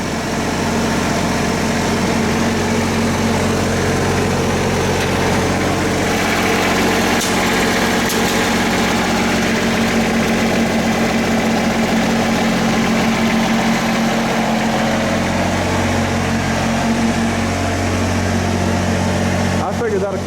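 The engines of a light tower and welders run steadily at 1800 RPM, a loud, constant close-up drone with no change in pitch for the whole stretch.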